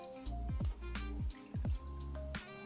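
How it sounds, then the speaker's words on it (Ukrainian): Gin pours from a bottle into a mixing glass for a dry martini, a close, quiet series of hollow glugs and drips in uneven bursts, with no talking. "беремо змішувальний стакан. І першим у нас іде джин, додаємо 60 мл джину."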